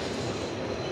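A train at the small Cooch Behar station, a steady low rumbling roar of rolling carriages, close and continuous over a brief moment, with no voices.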